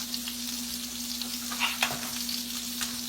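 Sausages sizzle steadily in a frying pan, a close, continuous hiss of fat with a few sharper pops and a low steady hum beneath, no voices.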